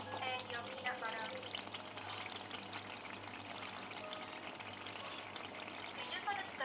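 Water and peanut butter go into a spice paste frying in oil for satay bee hoon, giving a continuous soft sizzle and bubbling with faint stirring, steady and moderately quiet throughout.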